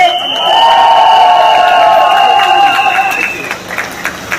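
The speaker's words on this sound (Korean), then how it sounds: "여러분 동의하시면 박수로 응답해 주셨으면 감사하겠습니다" At a mayoral candidate's campaign rally in an open-air market, a crowd responds with cheering and shouts, while a strong sustained voiced tone rises and holds on top, with clapping mixed underneath.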